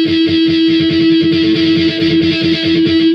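A sustained high-pitched harmonic rings on the low sixth string of an electric guitar over rapid, rhythmic palm-muted strumming, loud and close.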